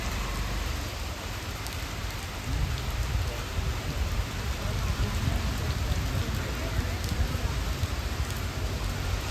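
Steady rain falls continuously in Munnar, a dense even patter close by with no break and no talking.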